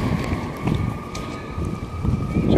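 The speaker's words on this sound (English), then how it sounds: "I heard a siren fire truck." Fire truck siren on a city street, heard faintly and steadily as a held wailing tone, partly buried under heavy wind rumble against the microphone, with no talk.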